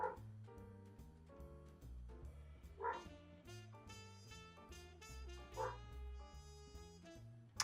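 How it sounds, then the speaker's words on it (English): A dog in a home kitchen lets out a few short yips and whimpers at intervals, fairly faint beneath steady background music. "My dog really wants to be part of this video today."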